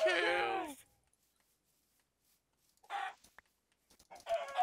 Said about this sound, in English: Finding the motherload of chickens right now.